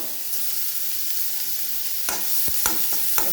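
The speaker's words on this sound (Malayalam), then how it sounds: "എണ്ണ ചൂടായി. അതിലേക്ക് കുറച്ച് സവാളയും കറിവേപ്പിലയും" Onion, curry leaves and green chili frying in hot oil for egg thoran give a steady, close sizzle, broken toward the end by a few sharp spatula scrapes and stirring clacks, with no speech.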